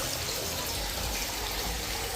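Water runs steadily from a bathtub tap in a desert home supplied by flood irrigation, a continuous close rushing hiss with no breaks, no talk, and little change in level.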